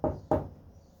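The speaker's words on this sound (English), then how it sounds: "She knocked on the door." Two firm knocks on a wooden door, close and distinct, spaced about a quarter second apart, each a dull thud that fades quickly into silence.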